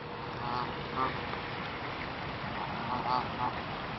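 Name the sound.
ducks at Beacon Park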